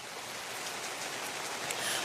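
Steady rain falls in southeast Louisiana, a soft, even hiss of drops hitting surfaces that continues without a break at low level and with no voices.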